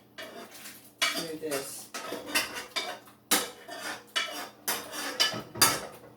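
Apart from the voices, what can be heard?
stirring celery and onion in a soup pot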